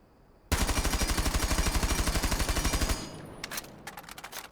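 A rapid, steady burst of automatic gunfire from a weapon fitted with a flash hider in Rainbow Six Siege, loud and evenly spaced for about two and a half seconds, followed by a few faint clicks and clatters.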